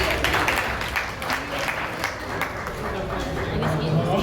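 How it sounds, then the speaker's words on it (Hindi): Audience applause at a Hindi-language event session as the next participant is welcomed to the stage, a steady dense wash of clapping lasting the whole stretch with some crowd murmur mixed in. "जोरदार तालियों के साथ उनका उत्साहवर्धन कीजिए।"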